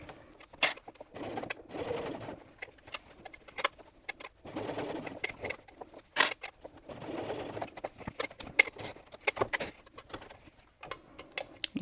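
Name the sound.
sewing machine basting a curved zipper seam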